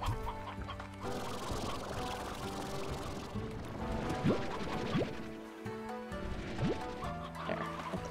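Chickens cluck and squawk in the video game Slime Rancher over a busy background of layered sounds, with a few sharp rising calls breaking through now and then.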